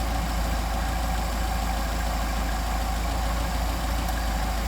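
A Solex engine runs close by at a steady idle with a low, throbbing, slightly knocking beat, unbroken and with no voices.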